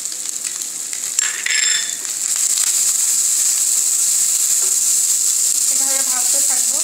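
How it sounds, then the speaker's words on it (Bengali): Onion frying with chicken in a pan gives a loud, steady close sizzle and hiss, with a few brief utensil clinks and a voice talking quietly in the background. "এখন পেঁয়াজটা আমি সামান্য ভেজে নিয়ে বাকি ভেজিটেবলগুলো দিয়ে দিব।"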